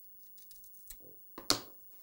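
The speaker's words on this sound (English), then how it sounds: "I'm gonna go ahead and clip that with our Kai scissors." Kai scissors snip quilt fabric in a few faint, quick cuts, ending with one sharper, louder snip near the close, with quiet rustling in between.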